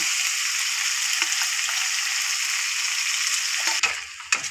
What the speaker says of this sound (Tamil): கொஞ்சம் தண்ணி ஊற்றி மசாலா கொஞ்சம் எண்ணெய் பிரிஞ்சு வேக வரையும் கிண்டி விடுறேன்